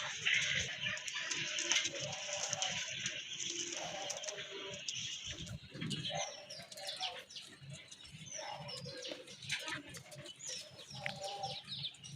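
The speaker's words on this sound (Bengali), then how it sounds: "এই যে দেখেন এখনই কিন্তু ব্রিডিং মুডে আছে কবুতরগুলো।" Pigeons in breeding mood fill a loft with steady chirps and soft calls, with scattered low cooing-like notes and occasional fluttering, all at a moderate, continuous level with no talking.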